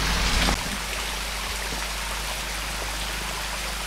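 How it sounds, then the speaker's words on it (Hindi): Continuous rushing water from a waterfall at Sewati Hill near Sewati Mata Mandir, a broad steady roar with a brief louder burst at the start. "तो देखिए दोस्तों, ये है पूरा झरना"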